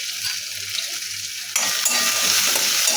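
Chopped okra with salt, turmeric and coriander powder being stirred in a pan, a continuous close sizzling hiss that grows louder halfway through, with scraping stir sounds and no talking.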